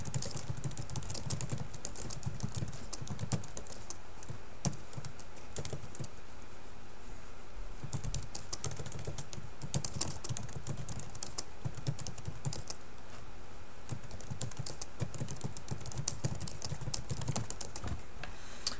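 Rapid, light keystrokes on a computer keyboard as a coach types comments into a training session, an even run of soft clicks over a steady background hiss.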